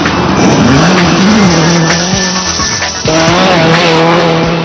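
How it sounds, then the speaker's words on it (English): A Subaru rally car at Rally Japan 2006 ploughs through deep muddy ruts, its engine loud and close, revving and dropping through gear changes with tyre slip and splashing. The sound runs continuously, with no talk. "Chris ploughs through the ruts just seconds slower than the big stars up front."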